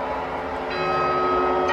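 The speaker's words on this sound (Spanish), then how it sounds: "¡las campanadas!" A clock bell in the Spanish village of Aliaguilla strikes the quarters. Its ringing tone rises and sustains, with lingering overtones and no speech over it.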